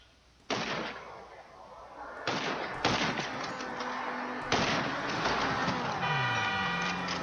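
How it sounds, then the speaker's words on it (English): Gunfire in Grand Theft Auto 5: a few loud, sharp shots spaced apart, each with a decaying tail, over steady background engine noise and game sound. "Someone's trying to shoot at me"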